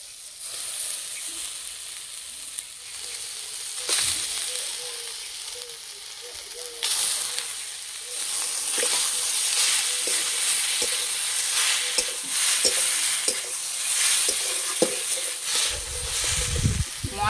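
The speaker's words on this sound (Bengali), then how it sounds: "মশলার সঙ্গে সয়াবিন ভালো করে ভেজে নিয়েছে" Soybean chunks frying in spice masala, a loud crackling sizzle that rises and falls with stirring scrapes, bursting stronger midway and continuing with spoon knocks toward the end.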